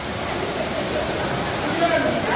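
The Acono waterfall inside the Acono Gorge gives a steady, dense rushing roar that stays even and close throughout the short stretch.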